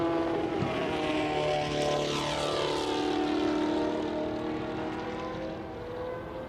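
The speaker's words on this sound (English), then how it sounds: "wailing around the far side of the circuit, you can hear the Jordan 194" A Jordan 194 Formula One car wails around the far side of Silverstone circuit at a historic racing festival, its high engine note sweeping up and down in pitch as it passes at a distance, continuous with no talk.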